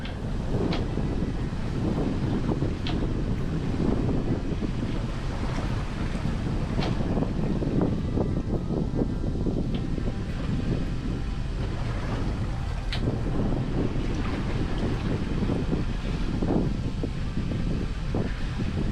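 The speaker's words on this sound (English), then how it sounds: "Wind's picking up." Wind gusts buffet the microphone beside a boat on open water, a constant rushing and flapping noise with scattered knocks and splashes, no talking.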